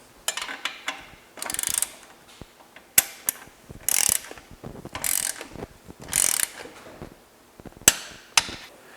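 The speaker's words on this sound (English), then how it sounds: "I'll use a torque wrench and my 9/16 socket to tighten the muffler clamp to 42 foot-pounds." A torque wrench with a 9/16 socket tightens a touring motorcycle muffler clamp, giving repeated bursts of sharp ratcheting clicks in an irregular rhythm, close and crisp with brief pauses between strokes.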